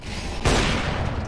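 A single loud gunshot or sniper rifle blast in Counter-Strike-style shooter gameplay, with an AWP rifle, hits sharply and rings out briefly against steady background game noise.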